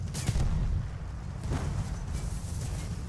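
A grenade blast rolls through a Battlefield 1 battle as a loud, low rumbling boom, with a second thud and steady heavy gunfire and roar around it.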